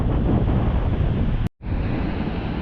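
Strong wind gusts during a sudden cold snap while fishing buffet the microphone with a loud, roaring rush, cutting out for a moment before the gusting blast resumes just as heavily.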